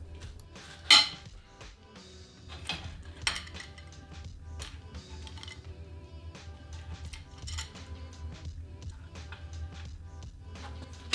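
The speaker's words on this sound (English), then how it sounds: "Now we use the 14mm hex bit in order to remove these caps to expose additional 10mm bolts." Metallic clinks and light ratcheting of a 14mm hex bit on a socket wrench backing out caps on a Toyota 2ZZ engine during teardown, close and fairly quiet, with irregular taps and scrapes and one sharp clank near the start.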